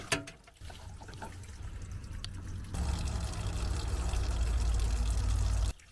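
Water running out of a cleared drain on a bus, a steady gurgling pour and trickle that grows louder partway through and continues without talk.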